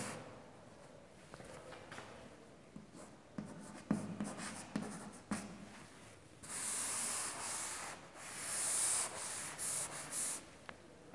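Chalk or marker scratching across a board during a zoology lecture on sponge classification, with irregular strokes, taps and longer rubbing passages, fairly faint and with no talk over it.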